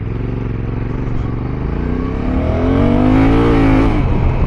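A new Honda NT1100 motorcycle engine, close and loud, accelerates through its gears, the pitch climbing in a steady rising drone with no talking.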